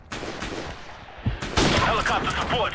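Pistol gunfire in a video game, several sharp shots cracking out in an irregular burst amid loud game noise, with a voice talking over parts of it.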